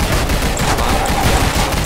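Loud, dense burst of pistol gunfire in a zombie survival video game, rapid overlapping shots filling a brief moment.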